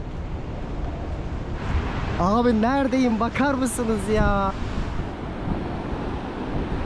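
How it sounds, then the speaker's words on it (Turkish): Ocean surf rolling in at Uluwatu, Bali, a steady broad wash of waves roughly three to four metres high, with wind buffeting the microphone and someone talking over it in the middle. "Şu dalgalar 3-4 metre vardır çok rahat."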